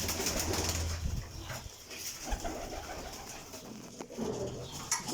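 Soft pigeon coos rumble low and intermittently beneath a busy, hissy outdoor background, with occasional wing movement and clatter near a breeder's loft of flying pigeons.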